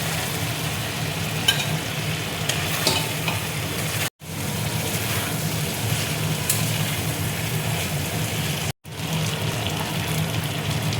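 Potato and pointed gourd pieces go into spice masala frying in oil, making a steady close sizzle with stirring scrapes, broken by two brief silent gaps, with no talking.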